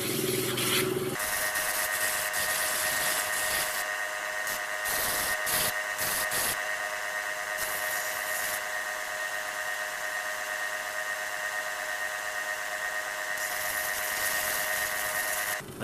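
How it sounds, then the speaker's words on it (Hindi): Opal gemstone having its back side polished on a lap or wheel, a steady continuous whirring grind with a bright sustained tone, loud and close throughout with a few brief scraping bursts near the start. "अब हम इसकी जो बैक साइड है वो इसी तरीके से वो पॉलिश करेंगे।"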